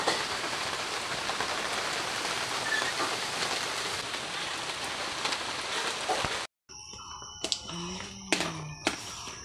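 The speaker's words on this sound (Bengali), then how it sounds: "দেখুন কীভাবে বৃষ্টি পড়ছে, আবহাওয়ার অবস্থা খুবই খারাপ।" Heavy rain falling in bad weather, a dense steady hiss of drops on surfaces for several seconds, then a brief cut to a quieter scene with scattered drips and faint background sounds.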